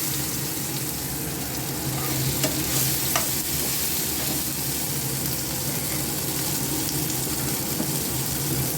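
Tomatoes stirred in hot spiced oil for an Indian potato-papaya curry, a dense, loud sizzle and frying hiss with soft scraping of a spoon, close up and continuous.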